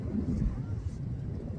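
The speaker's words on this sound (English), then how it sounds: "It's a little windy." Steady low wind rumble buffeting the microphone on top of Stone Mountain, a continuous blustery roar with no other sounds.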